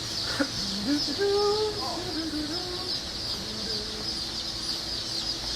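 Newly hatched White Jersey Giant chicks at a hatchery give a dense, continuous chorus of high peeps over a steady background hiss, with a few louder chirps standing out early on.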